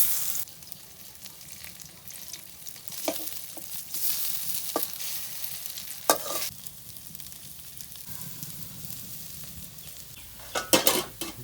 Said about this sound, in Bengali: দেখুন টকবক টকবক করতেছে